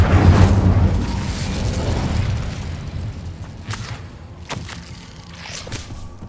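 A burst of magical fire from the Incendio spell in Hogwarts Legacy, opening with a heavy whooshing boom that rolls off into a crackling, fading rumble with a few sharp pops.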